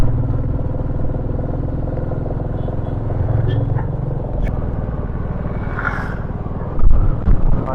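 A Royal Enfield Classic 350 Next-Gen motorcycle being ridden, a loud steady low engine thump with wind rush, close and continuous, a brief rougher burst near the end.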